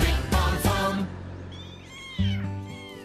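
A kitten meows several times in high, rising-and-falling cries, close and fairly loud, over a low steady hum.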